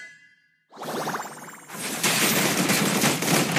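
Video game gunfire bursts out as rapid automatic fire, loud and dense, running continuously after a short whoosh and metallic ding at the start.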